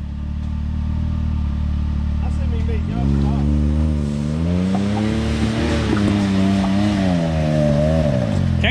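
Off-road vehicle engine revving hard on a rocky trail at Hatfield McCoy Rock House, a steady low drone that climbs and falls in repeated surges, with people talking over it.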